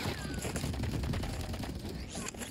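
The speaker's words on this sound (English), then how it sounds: "I'm shooting now." Rapid automatic gunfire from the video game Call of Duty: Warzone rattles in a dense, steady stream, loud and close, with a player's voice mixed in.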